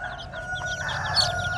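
A nine-spur chicken of Phu Tho origin, crossbred rather than purebred, crows once in a drawn-out call with clucking and faint background chirps, close and moderately loud.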